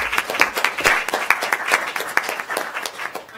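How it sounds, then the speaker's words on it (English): Scattered audience applause at a policy talk on the United States and East Asia, a modest round of hand claps with distinct individual claps standing out, moderately loud and steady for the whole stretch. "I'd like to give him a round of applause."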